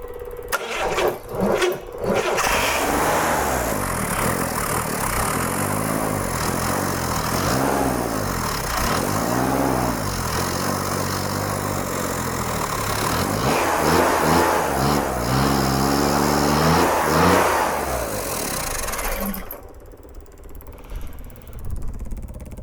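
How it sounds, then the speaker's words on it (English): An old Chevrolet Corvair engine on a test run cranks briefly, catches, and revs up and down in loud uneven surges for about twenty seconds before cutting out abruptly. "Got my starter switch and get the squirters going a little bit and see if we can do it."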